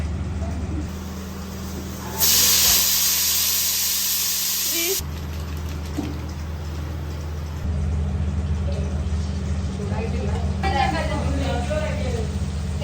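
A pressure cooker cooking rice in a hostel kitchen lets out one loud, steady hissing whistle lasting a few seconds, then drops back to a low hum as people talk nearby.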